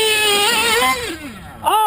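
A small Pico engine revs hard with a thin, high-pitched buzzing whine that swoops up and down in pitch, drops back briefly, then surges again near the end.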